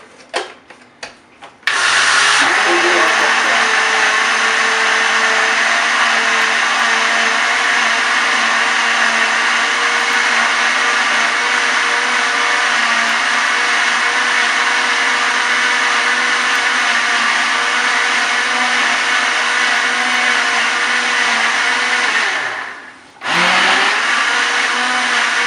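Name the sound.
blender mixing juice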